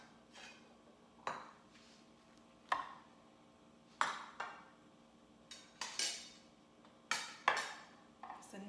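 Plates and utensils clink on a kitchen counter as two fried and baked Jamaican dumplings are dished onto a plate, a scattering of sharp ceramic and metal taps at irregular intervals, close and fairly quiet.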